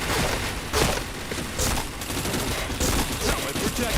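Rapid bursts of video game gunfire crackle continuously and loudly, dense volleys of shots with short pauses between them across the whole stretch.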